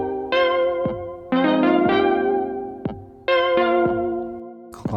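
Synth notes run through an Empress ZOIA pedal preset as a pure effect, giving loud sustained chords with heavy harmonics that swell, cut off and restart in uneven bursts, no talk.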